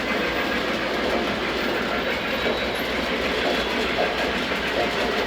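Model trains running on a home layout, a steady close rolling rumble with light clickety-clack from the wheels, continuous and even throughout.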